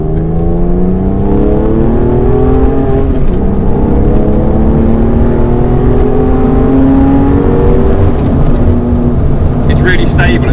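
A Porsche 996 Carrera 4S accelerates at full throttle from inside the cabin, the engine note climbing steadily through the gears in long rising sweeps, loud and continuous, while voices talk over it.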